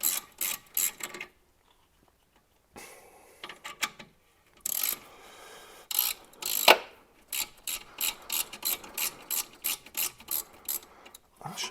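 A ratchet works loose the bolts on a Jaguar XKR brake caliper after the car sat for 11 years, with bursts of rapid clicking, pauses, then a long run of regular ratchet strokes, close and crisp with no talk.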